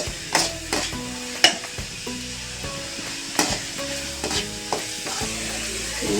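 Onions sauté in a pan with spice powder and salt for vada curry, a low sizzle under repeated stirring scrapes and spoon knocks at close range.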